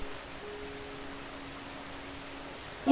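Steady rain falls in an even, soft hiss throughout, with no voices, ending in a brief louder bump.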